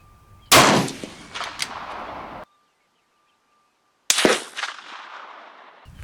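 Two sharp, loud gunshots ring out at an outdoor shooting range, each followed by a long decaying echo, separated by a stretch of near silence.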